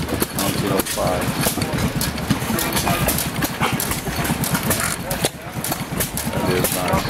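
Antique hit-and-miss gas engine from around 1905 running at a gas engine show, a steady chugging beat under constant loud crowd and outdoor noise, with people talking nearby.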